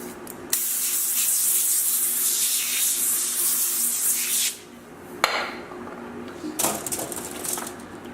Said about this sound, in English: Take some cooking spray.